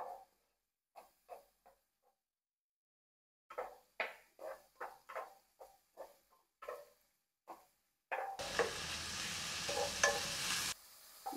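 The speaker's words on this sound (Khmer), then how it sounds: "ហើយខ្ញុំចាប់ដាំឆាត្រឡប់ឆាត្រឡប់ទៅ" Pork and garlic are stir-fried in a pan. A series of short scraping stirs is followed by a loud, continuous sizzle close by, with no talking.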